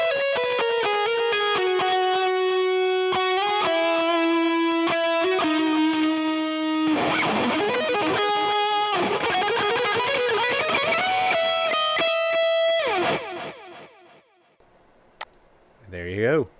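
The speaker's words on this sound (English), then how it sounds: "I will let you hear the lead by itself and expose my crappy playing." An isolated distorted lead electric guitar playing classic metal lines at home, sustained bent notes then fast picked runs, loud and alone, ending with the notes dying away and a few clicks.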